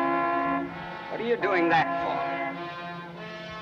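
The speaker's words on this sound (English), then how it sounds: "What are you honking the horn for?" A steady, droning car horn sounds throughout a scene from an old noir-style film, holding a constant tone while someone speaks briefly over it.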